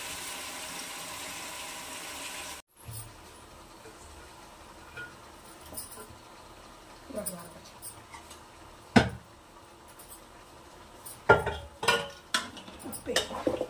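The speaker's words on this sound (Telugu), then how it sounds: "పుదీనా వేసిన తర్వాత ఇప్పుడు తలకాయ కూర వేస్తుంది." Goat head meat being added to a pan with mint and stirred, with sporadic scraping and clinking of a utensil against the pan, faint sizzling, and a few sharper knocks near the end.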